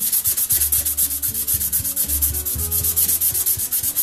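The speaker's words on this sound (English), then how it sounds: "I'm going to take some sandpaper to it." Sandpaper worked by hand over the steel blade of an antique Disston keyhole saw, a loud, close, rhythmic rasp in rapid back-and-forth strokes, with no talk.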